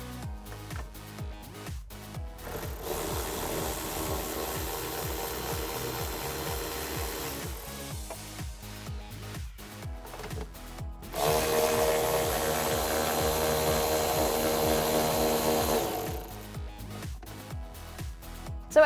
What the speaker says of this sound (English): This is one of the 11mm nuts that we'll need to remove, so we'll go ahead and back this one off now.